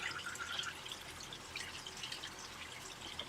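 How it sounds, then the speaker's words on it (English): A domestic washing machine filling with water, a faint steady trickle and patter of inflowing water, quiet and continuous throughout. "why is my washer filling all the way?"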